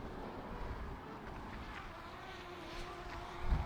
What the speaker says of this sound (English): And the drone is definitely struggling in this wind.